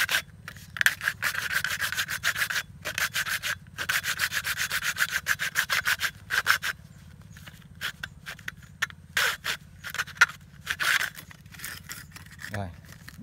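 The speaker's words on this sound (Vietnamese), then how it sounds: "mình cưa đứt cái đường này luôn nha" Rhythmic back-and-forth rasping of a hand saw cutting through PVC water pipe, steady close strokes with brief pauses, and a voice speaking in between.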